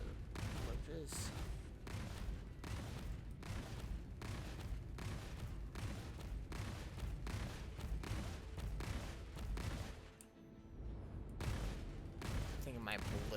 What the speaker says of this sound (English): I think my ballistics weapons, my cannons are hitting them, but nothing else is